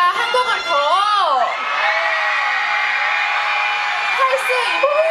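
Fans at a K-pop girl group's outdoor healing concert at a harbour scream and cheer in a loud, sustained crowd roar, with high shrieks and whoops rising and falling throughout.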